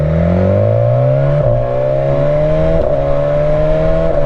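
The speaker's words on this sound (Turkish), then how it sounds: "Yardıralım böyle." A BMW S1000RR motorcycle engine with its original exhaust revs loudly and steadily, pitch climbing through the gears with brief dips at each shift, close and continuous.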